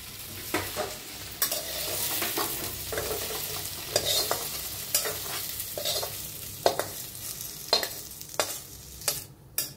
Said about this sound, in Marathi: भेंडी छान अशी भाजल्या, बिलकुल चिकट बिकट अजिबात झालेली नाही